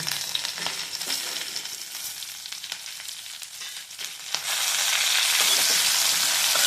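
Pirandai and tomatoes sautéing in oil in a pan, a continuous close sizzle with scattered clinks and stirring scrapes, the frying growing louder and more even toward the end.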